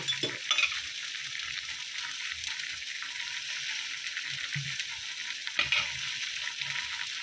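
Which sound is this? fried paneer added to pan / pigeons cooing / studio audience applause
fried paneer added to pan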